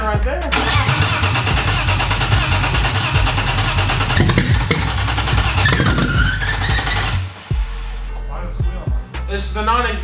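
A junkyard engine in a BMW E36 cranks briefly, catches and runs loudly and roughly for several seconds, then cuts out, leaving a few sputters and knocks.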